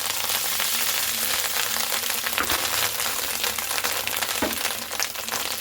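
Fish roe frying in hot oil in a frying pan, a steady loud sizzling hiss with occasional crackles and pops, continuous throughout with no talking.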